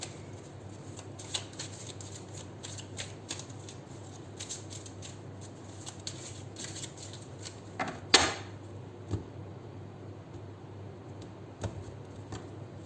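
Quiet riffling and tapping of tarot cards being shuffled, with soft clicks and one louder burst near the middle, no voices.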